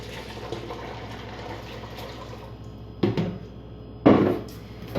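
Ten cups of water going into a big pot of dried jar soup mix: two short, splashy pouring gushes stand out over a steady background hiss of running water, close and moderately loud.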